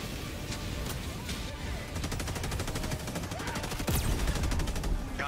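Heavy 380mm orbital barrage in Helldivers 2 pounds the battlefield with dense, continuous explosions and rapid gunfire, a loud rumbling wall of blasts with one sharper boom near the end, while a voice talks over it.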